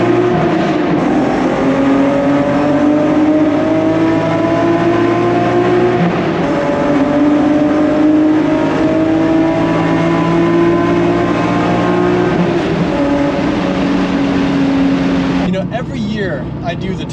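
An Infiniti G37 with 200,000 miles revs and drones loudly in a tunnel, its exhaust giving rising and falling harmonic tones that echo off the walls, then drops off near the end.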